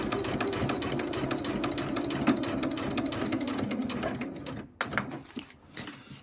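A sewing machine runs steadily as quilt seams are stitched on a jelly roll rag quilt, a fast even mechanical whirr close by that stops abruptly near the end, followed by a few brief handling clicks and rustles.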